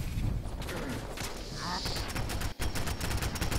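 Rapid bursts of gunfire from the video game Fallout 4 rattle in quick succession, dense and fairly loud, with the overall level faint.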